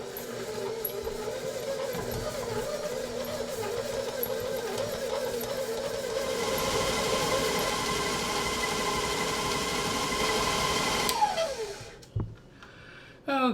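A kitchen electric mixer creams butter in a bowl, a steady motor whir that rises in intensity as the speed is raised to medium, then winds down sharply near the end.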